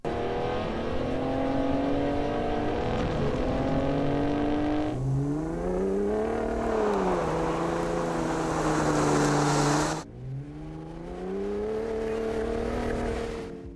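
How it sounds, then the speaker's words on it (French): 2021 Ford F-150 Raptor engine and exhaust, a deep aggressive V8-like drone that holds steady, then rises and falls through several revs, with a brief lift-off dip before climbing again, close and loud. "ils disent que le Raptor a vraiment un son plus agressif, il se rapproche plus d'un V8"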